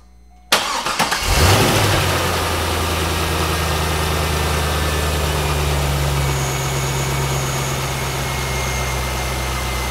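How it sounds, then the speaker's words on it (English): An LS V8 engine cranks and fires after a belt replacement, catching abruptly, then settling into a steady, even idle with a low hum and a constant smooth drone, no squeal heard. "what we're going to do is start her up and see how she does"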